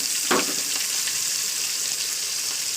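Fish fries in oil in a pan, a steady dense sizzle with a brief louder burst of crackling early on as a piece goes in.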